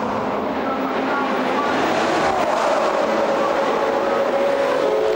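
A Ferrari 430 GT2 race car at Monza during a 2007 GT Open race: a loud, sustained engine roar that holds steady throughout, with the pitch shifting slightly as the car passes.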